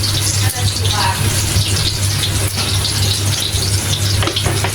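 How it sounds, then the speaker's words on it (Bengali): Onion and chili frying in oil in a pan, a steady, loud sizzle with dense crackling that runs without pause, while a low hum sits underneath. "তারপরে এটাকে তেলে ভাজে হালকা, তারপরে মরিচটা"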